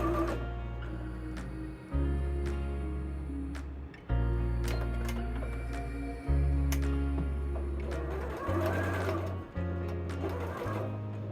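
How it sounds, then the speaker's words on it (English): A sewing machine runs along the straight edges of a double gauze shirt collar in short repeated bursts, each starting sharply and tapering off, with small ticking clicks between runs. "Stitch around the straight edges of the collar."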